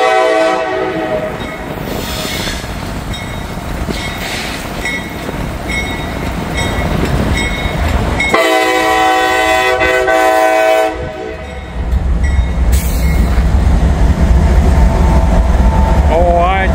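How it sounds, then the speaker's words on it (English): A slow CSX freight train passes close by in farm country, its horn blaring in long sustained blasts over the steady rumble and clatter of rail cars, with a brief quieter gap before the rolling noise swells again. "I believe it's a CSX train."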